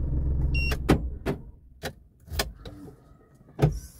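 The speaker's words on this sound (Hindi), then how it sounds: "उसके लिए पहले मेरे को गाड़ी बंद करनी पड़ेगी" A modified Maruti 800 car's idling engine rumble dies away as it is switched off, followed by a few sharp mechanical clicks and light key rattles close by.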